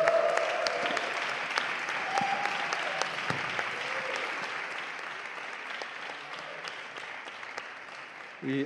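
Audience applause for a saxophonist at a jazz residency concert, a long sustained wash of many hands clapping throughout, gradually softening toward the end, with a few faint voices underneath.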